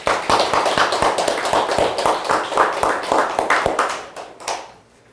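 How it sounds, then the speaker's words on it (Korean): A church congregation applauding after a sermon, dense, loud and close clapping that holds steady for several seconds before thinning into a few last claps and fading out. "하나님께 감사함으로 박수 한번 합시다"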